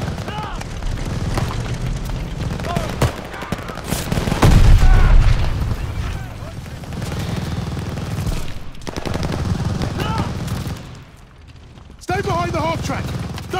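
Dense machine-gun bursts and rifle gunfire with booming explosions in the World War II shooter Call of Duty Vanguard, loud and continuous, with shouted soldier voices running underneath.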